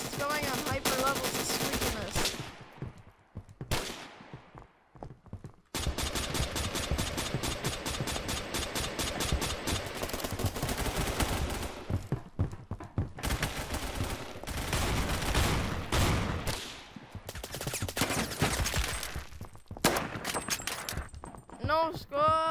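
Rapid automatic gunfire in the online shooter game Phantom Forces, long dense bursts broken by short pauses, loud and close, with a faint voice briefly underneath.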